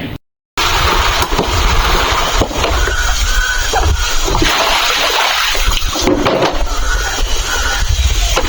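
An outdoor garden tap at a mountain home runs with a steady, close rush and splash of water as muddy hands and feet are washed. A brief silent gap comes at the very start.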